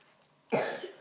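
A sick person in the room coughs once, a sharp, close burst followed by a rougher trailing cough, then a second shorter cough a moment later, over a quiet indoor background during a Rummikub game.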